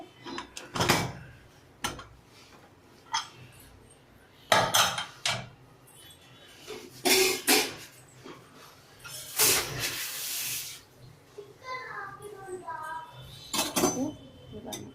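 A spoon clanks and scrapes inside a pressure-cooker pot of vegetable biryani in irregular bursts, with hissing steam and some brief nearby talk between the close metallic knocks.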